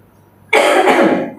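A preacher coughs hard during a church service in Jakarta, a loud harsh cough with a throat-clearing rasp that lasts about a second after a quiet pause, close to the microphone.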